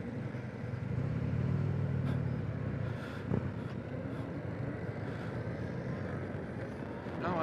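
An American V-twin motorcycle engine rumbles low and steady as the bike rides off, mixed with road and wind noise, with a brief swell in the first couple of seconds.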